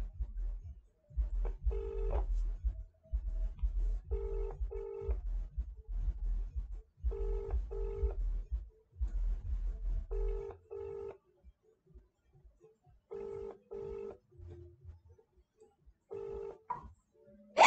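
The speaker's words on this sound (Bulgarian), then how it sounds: "ще извъня на този номер. Набирам го." A phone line hums as paired ringing tones repeat at steady intervals, faint rumbling noise under the early rings, then quieter tones continue.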